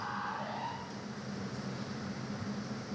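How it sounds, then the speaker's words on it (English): A faint emergency vehicle siren wails in the distance outside a school board meeting room, over a low, steady background rumble. "So for the sirens outside, for those who are hearing that"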